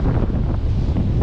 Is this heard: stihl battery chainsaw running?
no